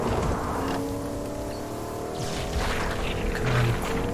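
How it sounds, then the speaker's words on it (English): A vehicle drives in Fortnite no-build squads mode, its engine a steady droning hum with a rising whine, heard continuously and fairly close throughout. "Come on, vehicle, get me there."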